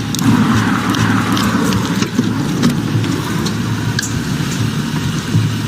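Car engine idling steadily at close range with a constant low hum, heard during a police traffic stop; no talk over it.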